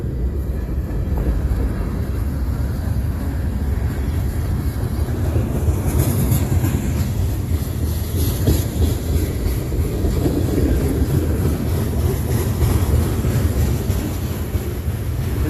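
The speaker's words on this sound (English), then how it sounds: "Come to Ridgeway, you're guaranteed trains all day long." A CSX freight train rolls steadily past on the railway at Ridgeway, a continuous loud rumble and clatter of wagons with a brief rise in squeal midway.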